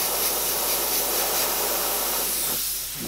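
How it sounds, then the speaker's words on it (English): An airbrush spray gun flushes out cleaning water after carbon black paint, giving a loud, steady hiss of spray that cuts off near the end. "I've got carbon black in the gun, so I'm just going to get rid of the water that I've just cleaned out of it."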